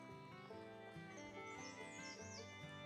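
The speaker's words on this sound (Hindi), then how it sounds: "ये चिड़िया की आवाज़ है" Faint bird chirps rise and flutter above a low, steady rumble, quiet and somewhat distant.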